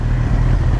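A loud Kawasaki Z800 inline-four motorcycle engine rumbles steadily and close by, a dense low throb with no break and no speech.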